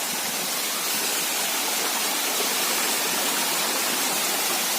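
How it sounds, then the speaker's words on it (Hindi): Gadachandi waterfall in Keonjhar, Odisha, roars as a steady, dense rush of falling water, loud and continuous throughout with no voices over it. "मस्त बढ़िया वाटरफॉल एटा हूँ गडचंडी"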